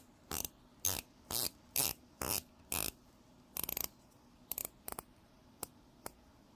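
Rotating bezel on a Spinnaker Fleuss SP-5055-01 dive watch clicks in short bursts, a run of six crisp, regular ratcheting clicks followed by quicker scattered ones, close and quiet with no talking.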